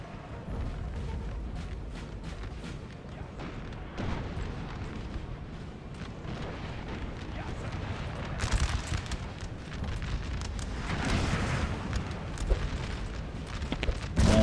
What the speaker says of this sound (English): assuming he's got hit hard by artillery there